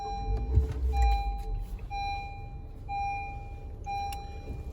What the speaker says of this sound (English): So we're gonna turn the vehicle on.